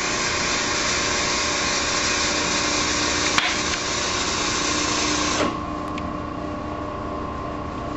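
A sewing machine runs steadily, stitching a seam on boat upholstery for a 14-foot jon boat, a continuous close whir that stops abruptly about two-thirds through, leaving quiet room noise.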